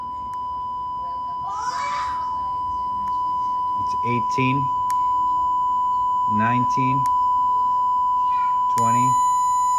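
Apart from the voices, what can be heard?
1000 hertz test tone through homemade speaker, distorting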